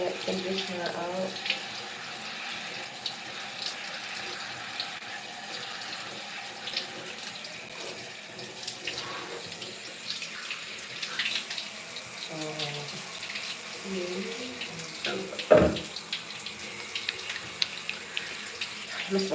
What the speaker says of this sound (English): Make sure I get all of that conditioner out.